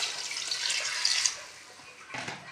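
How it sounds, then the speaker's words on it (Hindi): Water is poured into a pot of fried meat and potatoes for aloo matar gosht, making a hissing splash for about a second, then a short second splash after a pause. "अब हम इसमें पानी शामिल करेंगे।"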